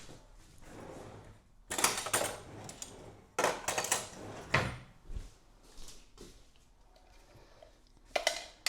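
Rummaging through a kitchen drawer for a spoon, with several sharp wooden knocks and metallic clinks of cutlery spread over the stretch, separated by quiet pauses, close by and with no voices.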